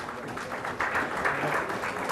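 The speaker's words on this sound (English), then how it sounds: "A big round of applause as we have the memento." An audience at a galvanizing industry conference applauds steadily as a memento is presented, the sustained clapping holding at moderate loudness throughout and swelling slightly partway through.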